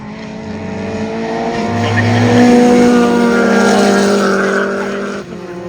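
Drift cars, including an anti-lag Mazda MX5, rev loudly and close at a drifting event. The engine note climbs, holds, then eases off over several seconds, with no talking.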